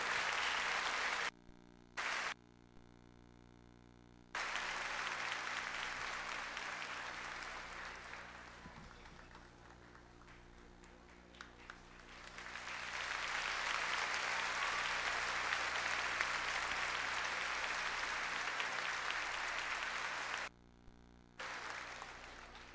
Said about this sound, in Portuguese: Uma grande salva de palmas a todos,